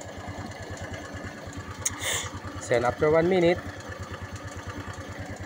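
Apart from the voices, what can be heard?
motorcycle engine idling after oil change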